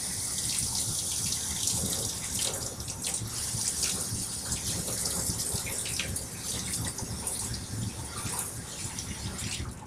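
Tap water runs into a sink while dye is washed off a hand, a steady close splashing stream with uneven gurgles and patters throughout.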